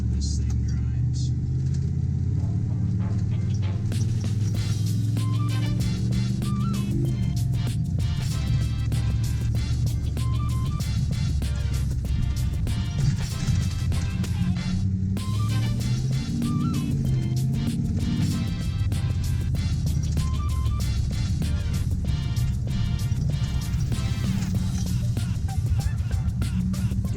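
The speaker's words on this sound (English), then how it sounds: "Gotta love that Ford power steering whine." An OBS Ford truck with a TTB coil-over suspension drives over a bumpy driveway, its engine rumbling steadily with a thin power steering whine above it, while someone talks throughout.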